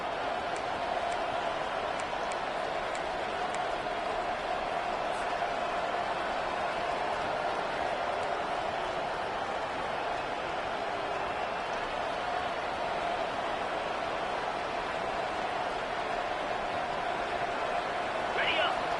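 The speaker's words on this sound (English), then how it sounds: "And here comes the noise. This crowd is trying to inspire this defense" Steady roar of a large college football stadium crowd in the video game College Football 25, loud and continuous, with a play-by-play voice talking over it.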